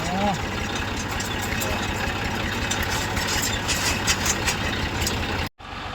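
A farm tractor's engine idles with a steady low rumble and rattle, close and constant for several seconds before a brief cut, while a person talks over it.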